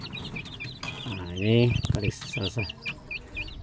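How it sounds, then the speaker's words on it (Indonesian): Free-range village chicks peep in quick, repeated high chirps at close range, with a voice talking over them partway through. "ini salah satu koleksi anakan ayam kita"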